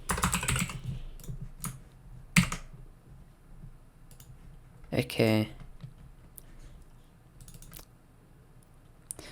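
Code is typed on a computer keyboard in short bursts of close, crisp key clicks, separated by quiet pauses, with a brief spoken word among them.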